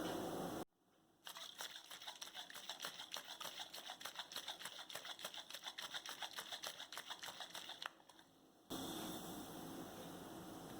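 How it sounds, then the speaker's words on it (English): A sorrel cocktail being shaken in a can capped with a plastic cup, giving a rapid, even rattle of sloshing and knocking for about seven seconds, with a short pause near the start and a quiet lull before it ends. "I'm just gonna use it to cover my can and to give this a little shake"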